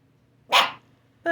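A dog barks once, a sharp close bark in a quiet room, and a second bark starts right at the end.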